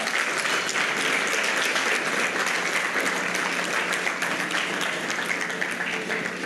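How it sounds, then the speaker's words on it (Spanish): A church congregation stands and applauds during a worship service: dense, loud, continuous clapping from many hands that fills the whole stretch with no pauses. "a darle un aplauso al Señor"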